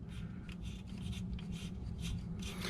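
Portable tire inflator hose being screwed onto a tire valve by hand, a soft, close rubbing and scraping with repeated short twisting strokes, quiet and alone with no talk.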